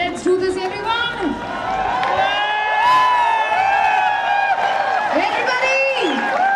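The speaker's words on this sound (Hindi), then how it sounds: "मैं अनुरोध करती हूँ कि एक बार आप लोग फिर से खड़े हो जाएं और तालियों का साथ दें, शोर हो जाए।" A standing audience at a stage event cheers, whoops and claps steadily, with high shouts and excited voices rising over a dense, continuous crowd roar.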